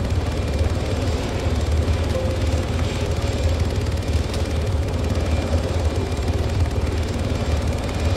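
A helicopter in the military video game ArmA 3 roars with a constant, loud rotor and engine drone that holds steady and close throughout, with no talk over it.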